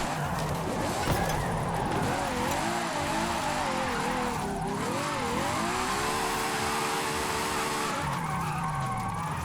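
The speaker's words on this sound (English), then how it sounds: "that's when you start flooring it and you see it like start picking up speed" A Ferrari J50 in Forza Horizon 5 is floored at full throttle, its engine note climbing and wavering through gear changes while tyres squeal and skid, loud and continuous throughout.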